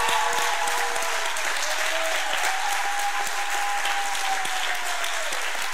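Church service congregation applauding together, a dense steady clapping close and loud for several seconds, with faint voices under it.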